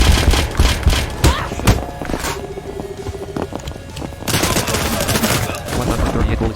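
Rapid gunfire bursts from the video game Scarlet Shell crackle loudly in clustered volleys, with a brief tonal pause between strings of shots before the firing resumes densely near the end.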